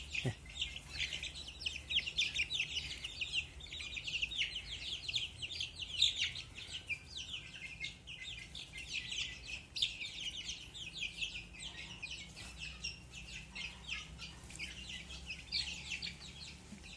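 A crowd of chicks chirps continuously nearby, high busy peeping overlapping without pause, with a low hum beneath.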